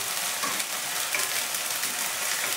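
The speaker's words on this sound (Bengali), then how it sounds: "এর সাথে এবার টমেটো কুচিটা দিয়ে দিলাম। টমেটোটাও খুব ভালো করে মিশিয়ে নেব এর সাথে।" Chopped tomato being stirred into a frying fish stew masala, a steady close sizzle and crackle of hot oil with soft scraping from the spoon, no voices.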